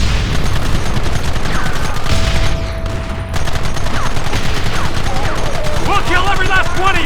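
Rapid gunfire from a Red Dead Redemption shootout on Xbox 360 crackles continuously in a dense, loud fusillade, with shouted voices and game sound mixed in throughout.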